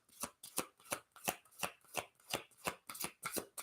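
Oracle cards being shuffled by hand in a quick, steady rhythm of about ten crisp riffling bursts, close and clear with no talking.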